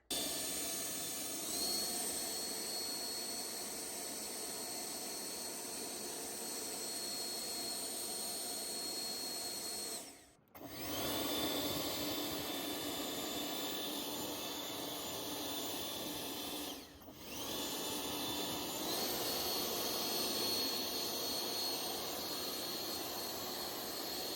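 Yardworks 48V brushless AeroForce 2.0 leaf blower running steadily with a loud, continuous jet-like whoosh and hiss, briefly cutting out twice as the trigger is released before roaring back.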